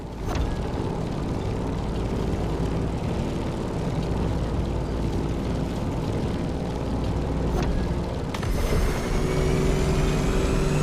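A Grumman F8F Bearcat propeller fighter flies in The Crew Motorfest racing game, its engine giving a steady, loud drone that holds throughout with a slight swell near the end.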